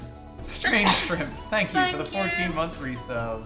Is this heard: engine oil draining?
no